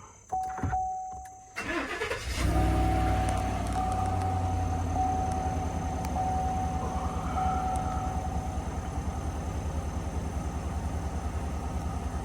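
A Chevy Silverado pickup engine cranks briefly and catches, then idles steadily and loudly close by, with a faint whine running over the rumble and no talk.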